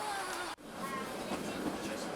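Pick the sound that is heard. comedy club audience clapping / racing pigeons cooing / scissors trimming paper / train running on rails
train running on rails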